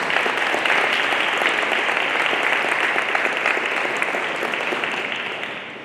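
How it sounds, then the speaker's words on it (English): Sustained audience applause at a city community-safety forum in West Seattle, a dense even patter of many hands clapping that carries on steadily and tapers off at the end. "another round of applause for our Chief."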